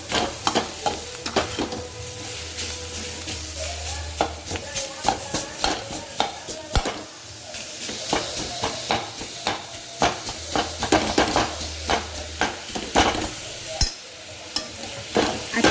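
Jaggery and grated coconut stirred in a pan as they melt for ukadiche modak filling, with repeated close scrapes and clinks of a spoon against the pan over a low sizzle, continuing steadily throughout.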